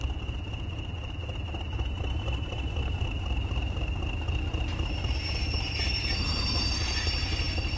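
Train brakes squeal in the Train Sim World 6 railway simulator, a sustained high metallic screech over a low rumbling rolling train, growing sharper and more layered toward the end, close and loud.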